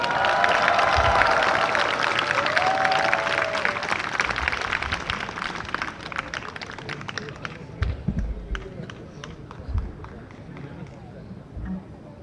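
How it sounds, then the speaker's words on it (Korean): Applause and cheering from a crowd at an outdoor protest rally in Seoul, dense clapping at first that thins to scattered claps as it fades, with a voice faintly in the background. "큰 박수로 환영해 주시면 감사하겠습니다."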